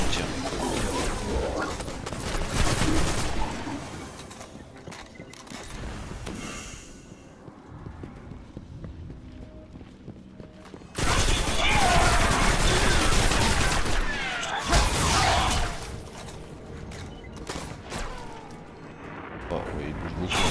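Gunfire from shooting at a moving target in the video game Destiny comes as dense bursts of booming shots and crashes, loud and nearly continuous, with voices talking over it.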